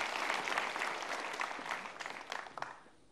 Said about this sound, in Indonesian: Kita berikan tepuk tangan dulu untuk pertanyaan yang baik sekali.